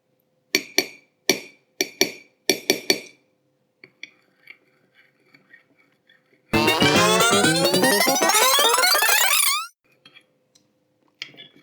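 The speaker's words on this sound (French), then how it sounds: "on va mélanger pour que ça fasse une pâte lisse et homogène" A spoon clinks against a bowl while homemade deodorant paste is mixed with white clay: several quick, sharp taps in short bursts, softer scattered ticks, then a loud rising swept ring lasting about three seconds before the clinking resumes faintly.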